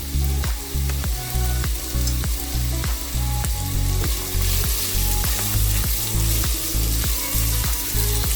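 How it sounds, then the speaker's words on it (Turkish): Celery sizzles steadily in hot oil in a pot for celery soup, with a spoon scraping and stirring in a regular rhythm, close and fairly loud. "güzelce karıştırarak kavuracağım"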